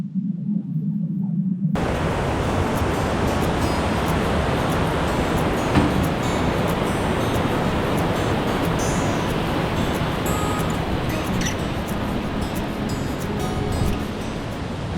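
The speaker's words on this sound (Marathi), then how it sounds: "त्याच्या खालून त्याची नदी वाहत जाते" After a brief low hum, a loud, steady rush of a mountain river flowing under an iron bridge on the Ghangaria to Hemkund Sahib trek fills the scene, broad and continuous, churning close by.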